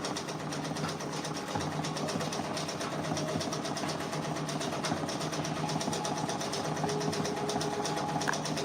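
Embroidery machine stitching out a simple four-color Drake patch of about thirteen thousand stitches, making a steady fast mechanical rattling hum, close and continuous throughout.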